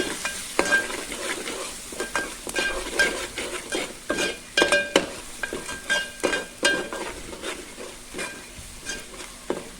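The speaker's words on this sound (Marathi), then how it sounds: "हळद आता हे पण छान परतून घेऊया" Prawn masala stirred in a hot pan with Konkani spice mix and turmeric, giving a continuous sizzle with repeated rhythmic scraping of a spoon against the pan, close and fairly loud.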